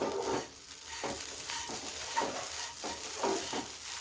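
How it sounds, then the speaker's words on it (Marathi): A spoon stirs kande pohe, flattened rice with onion, in a cooking pan after it has steamed covered for five minutes. Rhythmic scraping strokes repeat about once a second over a gentle sizzle, close and fairly quiet. "तर मी थोडंसं ढवळून घेते"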